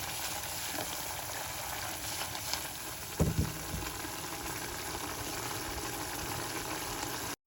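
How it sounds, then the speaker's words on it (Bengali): Lamb frying in a pan, a steady loud sizzle running continuously, with a brief clatter of utensils partway through. "আর এটা যে হচ্ছে আজকে ল্যাম রান্না করছি, দেখা যাক কেমন হয়।"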